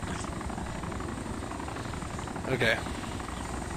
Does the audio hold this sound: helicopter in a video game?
yes